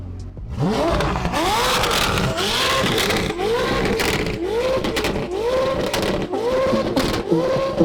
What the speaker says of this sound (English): Yo, you want to rev it real quick? I'll rev it real quick, homie.